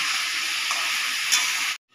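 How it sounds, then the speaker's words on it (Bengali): Diced potatoes fry in sunflower oil with curry leaves, a steady close bright sizzle and hiss that cuts off abruptly at the end. "এবার সেই তেলের উপরে আলু দিয়ে দিল। এবার আলুগুলো ভালো করে ভেজে নেবে।"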